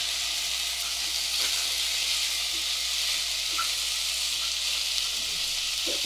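Sweet potato and cashews sizzle in hot ghee in a pan, a steady, close hiss of frying with faint occasional stirring clicks and no talk.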